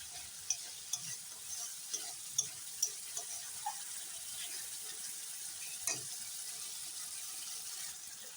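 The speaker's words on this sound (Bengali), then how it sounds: "এখন মশলাটা সুন্দর করে কষানো হোক" Spice masala cooking in a pan for a soybean curry, with a soft continuous sizzle and a few light spoon taps and scrapes scattered through, quiet and close, with no talk.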